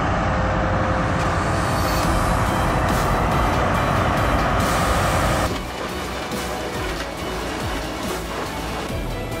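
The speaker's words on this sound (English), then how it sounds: "Meet the Liebherr T284, one of the world's largest and most powerful mining trucks." A Liebherr T284 giant mining truck with a 4,000-horsepower engine roars in a loud, steady rumble, which drops to a lower, rougher drone partway through.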